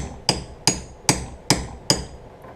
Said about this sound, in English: I'm going to slip that over the top of that, and basically going to just tap that in place